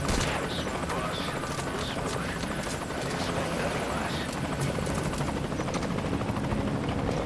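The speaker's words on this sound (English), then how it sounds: "So trying to blow up that other helicopter at the last minute" Helicopter rotor drone with bursts of gunfire in Metal Gear Solid 5: Ground Zeroes, a steady loud whirring bed mixed with sporadic shots and impacts throughout.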